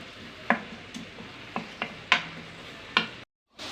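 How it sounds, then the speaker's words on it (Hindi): Onions added to hot ghee in a pan, a low background sizzle broken by several sharp spoon clinks and stirring knocks, close up with no speech. "घी गर्म हो चुका है, हम इसमें प्याज डालेंगे। प्याज को फ्राई करेंगे।"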